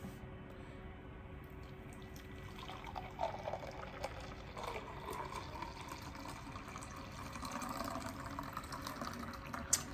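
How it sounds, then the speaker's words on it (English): Homemade vegan milk pours out in a soft, continuous liquid stream, faint and steady with small splashes throughout, no voices present. "here's the milk. I'm gonna pour it out."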